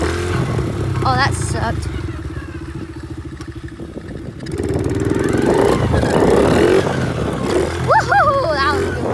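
A pit bike engine revs hard during a wheelie, a loud mid-pitched drone that rises and swells through the second half, with a voice speaking and whooping over it and wind-like clatter throughout.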